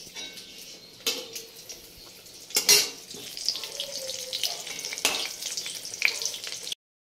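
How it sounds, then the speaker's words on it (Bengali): Eggplant slices fry in oil with a soft continuous sizzle, broken by a few sharp clinks and scrapes of a utensil against the pan, all close by and without speech. "বেগুনগুলো ভাজা হয়ে গেছে"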